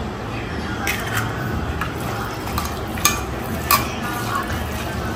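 Egg being mixed into a chilli chicken 65 mixture, soft wet squelching and stirring with a few light clinks of utensil against bowl, close and continuous under a faint background hiss.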